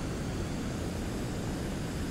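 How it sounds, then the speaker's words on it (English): VTOL aircraft lift engines running in Kerbal Space Program 2, a steady, dense roaring drone with no change in level. "So there's the lift engines back on now."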